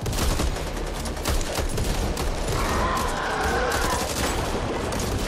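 Rapid gunfire from the zombie shooter video game Back 4 Blood, dense bursts of shots close and loud throughout, with no speech over it.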